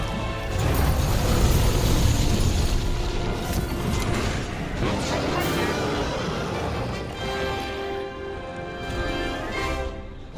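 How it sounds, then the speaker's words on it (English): Heavy booming crashes and rumbling blasts in Monster Hunter: World during a Deviljho battle pile up in a dense, loud burst, then thin out into ringing debris and mechanical clatter. "Explosions!"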